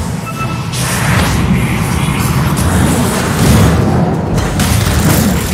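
Barracks collapsing in Dota 2, a loud, sustained rumbling crash and booming destruction that keeps going for several seconds without a break.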